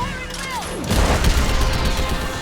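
Orbital strike from ship weapons in Mass Effect 3, a descending whine followed by a loud, sustained barrage of booming impacts lasting a couple of seconds.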